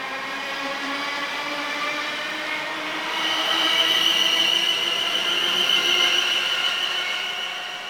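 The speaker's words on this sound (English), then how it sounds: "let's just watch this train go" A train departs Southampton Airport station, rumbling past with steady wheel noise and a rising metallic whine, growing louder midway, then easing slightly as it moves off.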